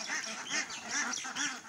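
Ducks are being let out on a duck farm, quacking in a few quick nasal bursts from a nearby flock.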